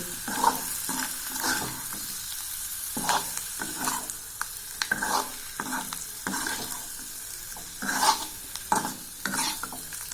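Egg fry with salt is stirred and tossed in a hot pan, giving a steady sizzle broken by repeated scraping and clattering strokes of a spatula, close and alone for about ten seconds.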